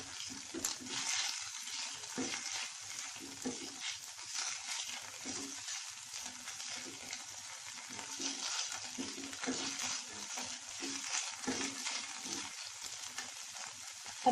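Steady sizzling of vegetables frying in a pan, with occasional stirring scrapes and soft clatters, close and continuous, no voices.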